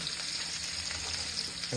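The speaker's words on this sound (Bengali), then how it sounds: "কাঁচা পেঁয়াজ ভাজাভাজি হবে" Onions sizzle and crackle in hot oil, a steady close frying hiss with no talking.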